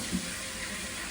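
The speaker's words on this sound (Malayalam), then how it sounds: "അപ്പോൾ തന്നെ ഫ്ലഷ് ആവുകയും ചെയ്യും." An automatic toilet in a large hotel in Chongqing, China flushes with a steady, close rush of water that holds evenly for the whole moment, with no voices.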